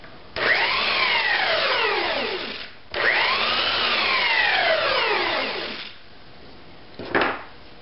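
A belt sander rounds the corners of a wooden dining tabletop with two loud, sustained grinding passes, its pitch sweeping up and down as the wood is worked, then a short final burst after a pause.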